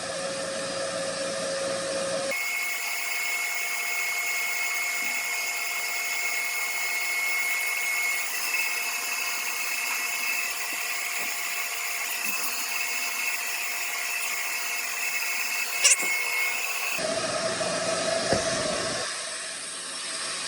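Continuous, even sanding grinds the orange peel off the body paint of a 1967 Firebird, a loud, close, unbroken rasp lasting about fifteen seconds before it stops.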